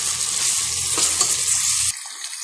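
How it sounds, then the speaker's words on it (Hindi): Onions and garlic frying in a pan for palak gosht: a loud, close, continuous sizzle that drops to a quieter hiss near the end, with no voices. "इन्हें आपने एक साथ ही भूनना बल्कि आपने इसे फ्राई करना है।"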